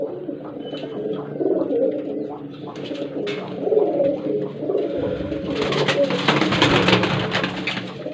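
Rampuri breeder pigeons coo in low, throaty rolling calls, several birds overlapping close by, with a burst of flapping or shuffling noise toward the end.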